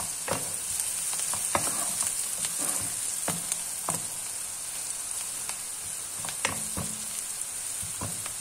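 Onions sautéing in a pan for a potato and minced-meat dish, giving a steady close sizzle and crackle with occasional scrapes and clicks from stirring, and no talking.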